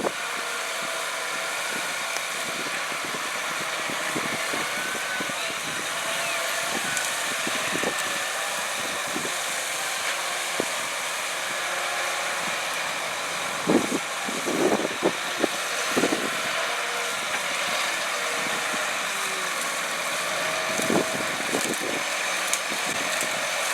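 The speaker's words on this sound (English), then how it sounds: "This tractor has to remain in constant motion as it injects the manure into the ground" A John Deere tractor works slowly across a dairy farm field injecting manure, its engine a steady, moderately distant drone with occasional clunks and knocks, no voices.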